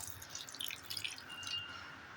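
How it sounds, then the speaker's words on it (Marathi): A small amount of water dripping and trickling into jaggery in a pot to start a syrup, faint and close, with soft splashy drips over about two seconds and no talk. "या गुळामध्ये आपण एक थोडंसं पाणी घालून घेऊया"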